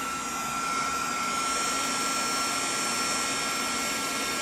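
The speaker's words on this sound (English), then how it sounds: "let me get the dryer here. And we're going to put it on the high steady" A heat embossing dryer set to high runs steadily and close, a loud constant whirring blow with a thin high whine, unchanging from start to finish.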